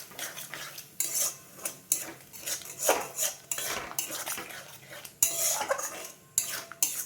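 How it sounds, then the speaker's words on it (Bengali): A spice masala with yogurt being stirred in a pan for an egg and potato dish: bursts of metal spatula scraping and clanking against the pan, separated by short quiet gaps, over a faint sizzle. "আর দেবো টক দইটা দিয়ে আর একটু ভালো করে কষিয়ে নেবো।"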